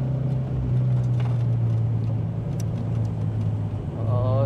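A Toyota 86 drifting on a track sends a loud, sustained engine drone under the whole clip as the throttle is held, with a rising rev near the end.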